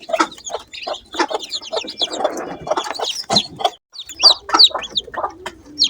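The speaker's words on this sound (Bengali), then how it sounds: "এই মুরগির বাচ্চাগুলো হচ্ছে আজই ফুটেছে, আর এই হাঁসের বাচ্চাগুলো মাত্র 2 থেকে 3 দিন বয়স" Newly hatched chicks, a day old, and two-to-three-day-old white Chinese and common ducklings cheep continuously in a dense, high chorus of overlapping peeps, close and fairly loud, with no voices.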